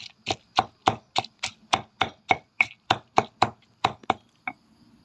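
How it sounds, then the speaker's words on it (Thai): A pestle pounds nam phrik khi ka chili paste finely in a mortar: about sixteen close, sharp thuds in a steady rhythm, heard alone and slowing to a few lighter taps at the end. "เราก็จะตำตำโคลกลงไปให้ละเอียด"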